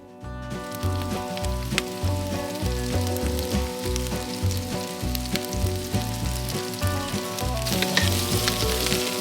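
Rough-chopped vegetables frying in hot avocado oil over a live fire outdoors, a dense steady sizzle and crackle that runs loud and close throughout, with a low rhythmic pulsing beneath it.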